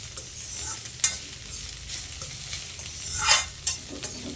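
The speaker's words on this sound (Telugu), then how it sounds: "ఇలా వేపుకోవాలండి బాగా పచ్చివాసన పోయే వరకు నెయ్యిలోనే మంచిగా వేపుకోవాలి" Grated bottle gourd fries in ghee for kaddu halwa, stirred with a spoon, giving a soft steady sizzle broken by sharp scrapes and clinks against the pan.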